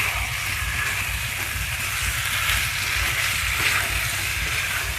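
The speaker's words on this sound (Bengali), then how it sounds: "কিছুক্ষণ মাংসটাকে আমি এই মশলার সঙ্গে কষে নেব।" Chicken pieces frying with spices in a pan for chicken kosha, a loud, continuous close sizzle with a steady crackle and a faint stirring texture underneath, no voices.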